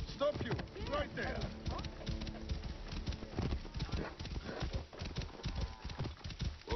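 Horse hooves clip-clop at a quick galloping rhythm in the Assassin's Creed Origins video game, steady and close, with game sounds and someone talking over them.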